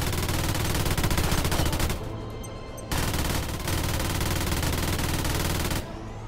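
Sustained rapid machine-gun fire in the combat flight game Project Nimbus, loud and relentless, with brief pauses between long bursts.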